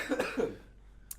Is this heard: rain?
no